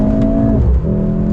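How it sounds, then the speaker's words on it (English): Mercedes-AMG GLC 43 turbo engine heard from inside the cabin, a steady droning hum that shifts pitch partway through as revs change, close and moderately loud with no talking. "You can determine how the turbo engine sounds in the interior at the touch of a button."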